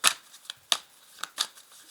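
A tarot card pulled from the deck and laid down, heard as a few soft, close papery flicks and slides spread over a couple of seconds in a quiet room.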